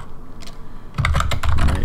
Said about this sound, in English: I couldn't really see what I was typing.